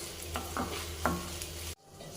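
Okra and egg frying in a pan with a spatula stirring through it, a steady sizzle broken by a few scraping strokes before the sound cuts off abruptly near the end.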